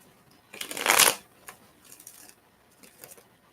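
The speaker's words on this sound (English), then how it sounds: "let's go ahead and shuffle this up real good" A deck of tarot cards is shuffled by hand in one quick riffling burst near the start, followed by a few softer shuffling rustles, close and dry, with no talking.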